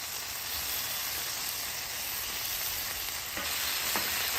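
Lobster burger patties sizzle steadily in tarragon lemon butter, a loud, continuous close frying hiss with a couple of brief spatula clicks as they are flipped, no talk.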